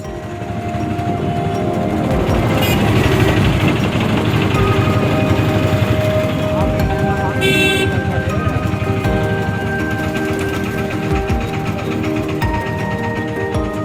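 An auto rickshaw rides through morning traffic in Tirupati with a constant, close engine drone and road rumble, broken by a few faint, brief horn tones.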